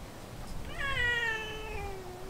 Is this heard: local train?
no